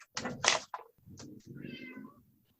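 A house cat meows several times in close succession, loud and nearby, with a soft thump partway through and no speech.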